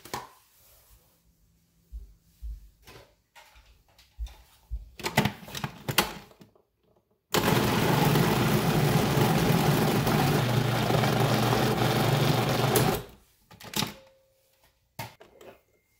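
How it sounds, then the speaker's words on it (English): A food processor grinding meat into a fine paste for Vietnamese ham, a loud, close, continuous whirring roar lasting several seconds, set between scattered clicks, clatter and handling knocks before and after. "I'm going to divide this into 4 portions to grind 4 times because I need the meat to grind it to be like a paste like."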